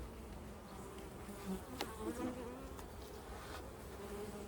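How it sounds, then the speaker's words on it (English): Honey bees buzzing around an open top bar hive during an inspection, a dense continuous hum of many wings close by, swelling slightly as individual bees pass near. "that's the big bee. Flying over everyone"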